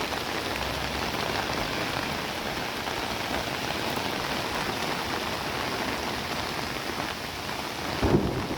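Heavy downpour over Hyderabad city streets: a dense, steady roar of rain hitting surfaces, loud and unbroken throughout, with a low rumble near the end.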